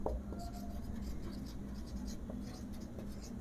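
A sentence being written on a board by hand gives soft, scratchy strokes in short bursts, close and fairly quiet, with a faint voice in the background.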